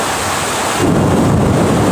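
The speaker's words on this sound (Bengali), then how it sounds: "মেঘে খুব ডাকাডাকি করছে" A loud roll of thunder rumbles over steady heavy rain at midnight in Dhaka, close and continuous throughout.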